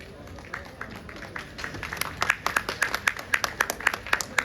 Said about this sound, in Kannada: ದಯಮಾಡಿ ಎಲ್ಲರೂ ಜೋರಾದ ಚಪ್ಪಾಳೆಯೊಂದಿಗೆ ಗಣ್ಯರನ್ನು ಸ್ವಾಗತಿಸೋಣ